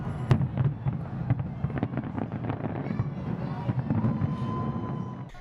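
Sydney Harbour New Year fireworks pop and crackle continuously at a distance, a dense stream of bursts over steady wind and crowd rumble, with no talk.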